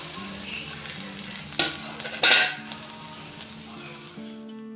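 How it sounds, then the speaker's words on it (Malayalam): Grated ginger frying in hot coconut oil, a steady sizzle with a low background hum, broken by two sharper bursts of crackle midway, then settling back to a gentle fry. "വെളിച്ചെണ്ണ നല്ലപോലെ ചൂടായ ശേഷം നമുക്ക് ഈ പിഴിഞ്ഞു വെച്ചിരിക്കുന്ന ഇഞ്ചി അതിലേക്ക് ഇട്ട് കൊടുക്കാം"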